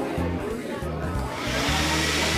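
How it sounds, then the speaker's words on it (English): A vacuum cleaner in an art piece switched on, its motor starting as a steady rushing whine that grows louder and broader, alongside low humming tones and some background voices. "when you turn the switch on with the vacuum cleaner,"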